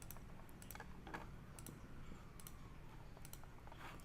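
Mouse clicks during Photoshop curves-adjustment editing with a gray eyedropper, a few sharp faint clicks scattered over a low steady room hum, no talking.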